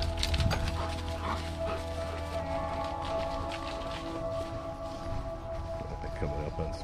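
Several dogs met on a walk on a Fourth of July weekend, giving a few faint barks and whimpers near the start, then quieter yips under steady outdoor background noise.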